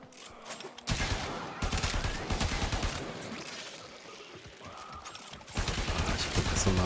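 Weapon fire in the sci-fi shooter Warframe, dense rapid volleys of shots that run almost continuously with brief dips, loud and close, with a voice occasionally talking underneath.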